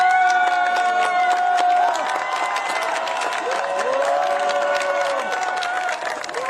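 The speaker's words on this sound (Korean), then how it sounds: "조국 전 대표의 지지자들이 환호성을 터트립니다." Supporters outside a prison gate cheer as a former party leader walks free, a loud crowd of overlapping shouts, whoops and high cries mixed with clapping, sustained and close throughout.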